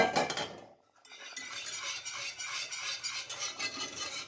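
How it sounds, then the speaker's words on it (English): A whisk beats steadily against a pot as banana cream pie filling is stirred constantly on the stove, a continuous close scraping and clinking after a brief pause. "So you're going to whisk constantly."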